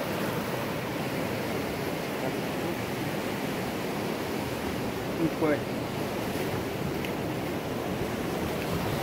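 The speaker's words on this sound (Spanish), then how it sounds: "Como pueden ver, ya aquí viene llegando el agua." Ocean surf rolling onto La Jucuarana beach, a steady, broad wash of waves close by with wind noise on the microphone, and a brief voice speaking over it.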